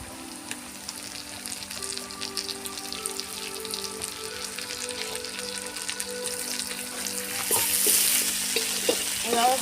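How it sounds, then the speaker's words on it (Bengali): Green chili paste frying in a pan for shrimp malaikari, a steady crackling sizzle with stirring scrapes that grows louder and busier toward the end. "এভাবে ভালোভাবে ভাজতে হবে"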